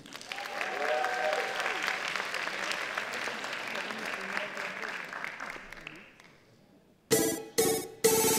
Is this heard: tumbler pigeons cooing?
no